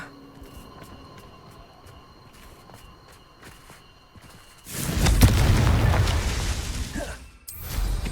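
Confringo blasting spell going off in Hogwarts Legacy: a sudden loud boom bursts in after quieter footsteps and ambience, its heavy rumble swelling and sustaining for a couple of seconds before cutting off, then a second burst erupts.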